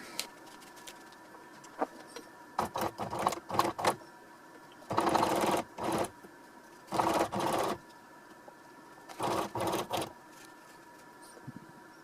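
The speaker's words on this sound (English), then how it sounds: "Alright, I'll start sewing it." A sewing machine runs in several short whirring bursts of stitching on a bishop bag, stopping and starting between runs, close and moderately loud with no speech.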